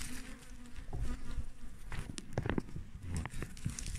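Bees buzzing in their nest inside a log hive a month after being housed, a dense, close, continuous hum with scattered thumps and rustling as the hive is opened.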